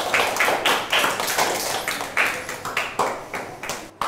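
A classroom of Year 4 pupils claps for a performing group during a music lesson, with a quick run of sharp, close hand claps that swell and fade in uneven bursts.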